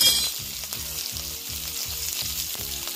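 Green chilies sizzle steadily in oil on a hot iron tava, with a regular, rhythmic stirring scrape about every half second over the constant hiss, close and fairly loud, no voices.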